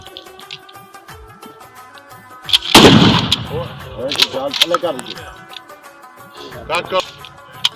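A single loud, close gunshot cracks out from a gun fired in the prone position during shooting practice, followed by an instructor's voice giving commands.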